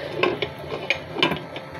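A metal lid set over a pot of cooking potato curry makes a few light clinks and ticks in quick succession, close by and fairly soft.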